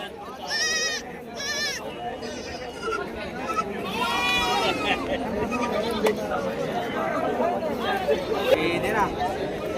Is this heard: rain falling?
no